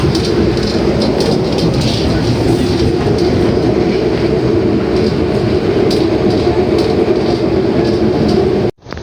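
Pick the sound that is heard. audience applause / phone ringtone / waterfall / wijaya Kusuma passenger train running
wijaya Kusuma passenger train running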